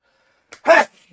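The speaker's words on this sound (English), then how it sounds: "Sorry, I had to sneeze." A single short, sharp sneeze burst, preceded by a quick intake of breath, close and fairly loud against near silence.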